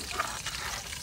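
Onions frying with garlic-ginger paste in a pan, cooked outdoors in a Pakistani village, giving a soft, steady sizzling hiss that stays fairly faint throughout.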